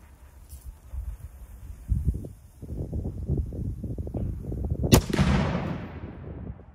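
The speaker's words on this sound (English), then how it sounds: "let's touch this off in our cannon and find out" A cannon outdoors on a range fires a steel ball at ship chainmail: a rumble of shuffling and low thuds builds, then one sharp, loud blast rings out and decays into a long hissing tail.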